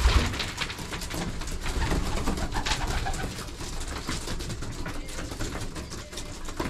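Racing pigeons at a breeder's loft coo repeatedly close by while eating treats, a dense, continuous murmur of throaty calls over soft rustling.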